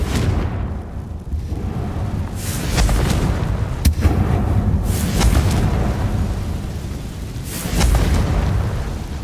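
Confringo fire spell from the Hogwarts Legacy video game, a few heavy booming blasts with rumbling tails and a sharp crack, loud and close over continuous game ambience.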